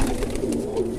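Pigeons on a home rooftop loft give soft, low cooing with a steady murmuring rhythm, close and moderately loud throughout, with no talk.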